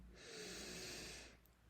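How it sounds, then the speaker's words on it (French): A single deep breath is drawn in through the nose during relaxation breathing, a soft, steady airy rush lasting about a second and heard up close. "Inspirez profondément par le nez"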